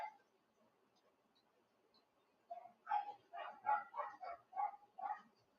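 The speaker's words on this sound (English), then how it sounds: "the dogs are all barking." A dog barks repeatedly in a quick series of yaps after a quiet stretch, moderately close, with a faint earlier yelp.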